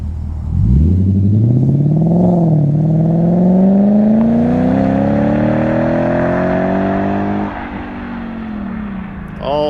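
A Lexus GS F/RC F engine fitted with a new aftermarket exhaust revs hard from idle, its tone climbing steadily for several seconds, then drops back to a rumbling idle. Close and loud.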